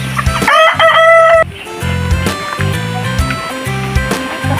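A native rooster crows loudly and close, a long quavering cock-a-doodle-doo followed by repeated clucks and short calls from nearby chickens in a backyard, with no talking.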